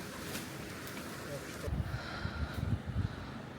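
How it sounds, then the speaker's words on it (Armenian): Strong wind on a riverbank buffets the microphone in low rumbling gusts, growing rougher in the second half, with a faint wash of river water behind it. "ուժեղ քամիա"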